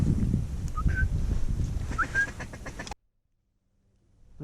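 Pintail ducks call in a few short, high whistles over steady outdoor wind and rumble on a duck hunt before a big snowstorm, then everything cuts to near silence.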